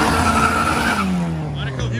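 A Honda VTi car launches hard in a drag race, its tires squealing loudly with a strong engine note that sweeps downward as it pulls away.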